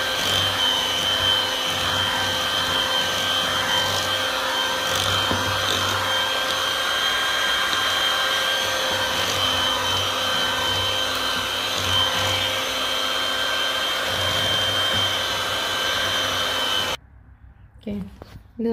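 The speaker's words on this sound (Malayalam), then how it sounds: "ബട്ടർ നമ്മൾ ആദ്യമേ ഹാൻഡ് മിക്സർ വെച്ചിട്ട് നല്ലതായിട്ട് അടിച്ചെടുക്കുക" An electric hand mixer beats butter for a Christmas fruit cake, a loud, steady whirring drone held close for most of the time before cutting off abruptly near the end.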